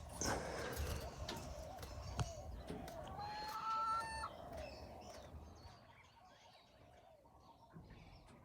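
Chickens cluck and a rooster crows, mid-distance, over a faint outdoor background in fire-ravaged Kula, Maui, that thins out toward the end.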